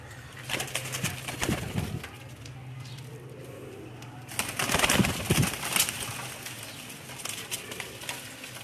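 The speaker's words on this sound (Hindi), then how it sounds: "ये देखिए जो फ़कीर गुल कबूतर है जी" Fakir Gul pigeons at a pigeon club in Gujranwala cooing close by, repeated throaty coos in uneven bursts with a few bouts of louder fluttering, over a low background hum.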